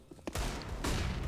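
Rapid Desert Eagle pistol shots in a CS:GO professional match on Inferno, a few sharp loud cracks in quick succession over the steady din of game sound.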